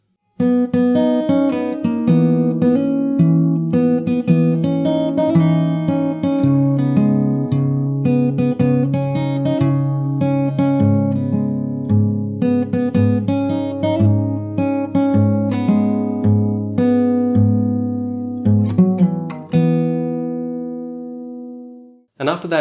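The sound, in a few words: guitar playing from the start of the chorus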